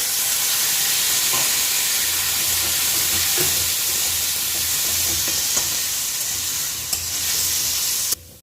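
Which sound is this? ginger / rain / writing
ginger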